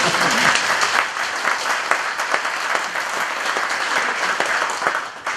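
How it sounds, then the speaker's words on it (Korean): An audience at a lecture breaks into steady, sustained applause, a dense wash of many hands clapping together that fills the room without pause. "그때 박수 한번 쳐주세요."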